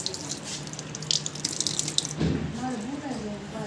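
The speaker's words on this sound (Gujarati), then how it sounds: "યુગભાઈને નળનું પાણી પીવું છે." Water runs from a household tap in a steady splashing stream, then stops partway through as a person begins speaking.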